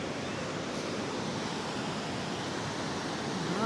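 Strong ocean waves wash onto a beach in Danang, Vietnam as a continuous broadband roar of surf, steady and fairly soft, with no voices.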